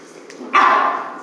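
A single short, sharp puppy bark rings out close by and trails off, preceded by a faint yip.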